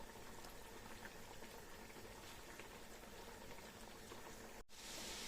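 Meat sears in hot oil in a pan, giving a continuous close sizzle and crackle with scattered pops that holds steady throughout, no voices over it.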